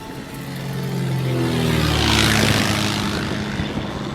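Propeller aircraft engine in flight heard from the cockpit, a loud, steady droning hum with tonal buzz that swells toward the middle and eases slightly, no talking.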